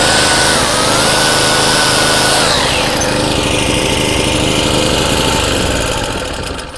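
A 1000W four-stroke gasoline portable generator runs close by with a loud, buzzing high-revving engine drone. The pitch shifts as it changes speed, and the sound fades slightly at the end. There is no talking.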